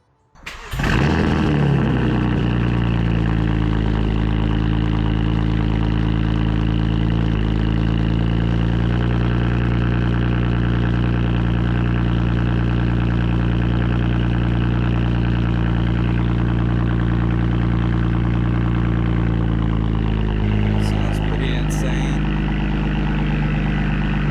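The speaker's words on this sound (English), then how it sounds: "Alright, so car is running really smoothly, no issues" A BMW 335i fitted with a single-turbo build idles steadily and loudly, its deep, smooth engine drone holding nearly unchanged for the whole stretch after starting. A few faint clicks come near the end.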